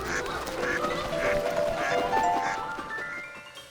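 Several birds call together with quacking, honking cries, a busy flock heard at moderate distance over a steady outdoor background.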